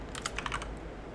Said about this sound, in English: I'm typing that.